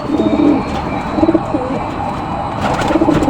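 Pigeons kept as birds coo in soft, repeated low throbbing phrases against a constant background hiss, with a few nearer calls standing out.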